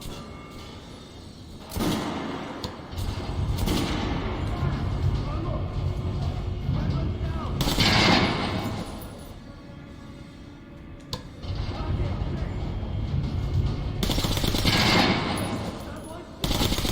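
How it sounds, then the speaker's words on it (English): Shotgun blasts in the video game Metro Last Light, several loud, separate booming shots spaced a few seconds apart over a constant game background, with a voice speaking between them. "Shotgun."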